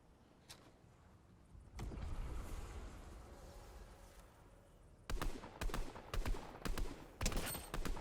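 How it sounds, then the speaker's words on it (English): Fortnite Chapter 3 gunfire during a UFO event: one early shot, then a sustained rumbling burst of fire, followed by a run of loud rapid shots from about five seconds on, with no talking. "Just want to shoot this guy so he's less likely to land on me."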